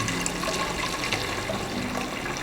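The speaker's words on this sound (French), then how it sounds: "Et en attendant, on ajoute de l'eau chaude." Hot water is poured while preparing a yellow sauce, making a steady, continuous splashing rush that stays close and fairly loud throughout, with no speech.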